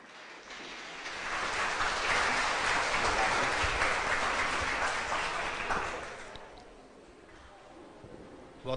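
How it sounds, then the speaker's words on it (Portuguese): An audience applauds to welcome a speaker to a lecture on psychic illnesses. The clapping swells quickly into a loud, sustained round for several seconds, then fades away into quiet room noise. "Vamos receber o Edson com um caloroso aplauso de agradecimento"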